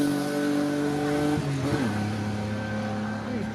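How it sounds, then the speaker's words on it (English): A car drives past at speed at a retro car gathering, its engine note steady and fairly loud, then dipping in pitch around the midpoint as it passes by, with crowd noise in the background. "He's driving quicker than he was the other time."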